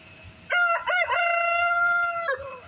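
A rooster crows once, loud and close, in a long cock-a-doodle-doo with harmonic calls, at a farmyard where ducks, older hens and roosters roam freely.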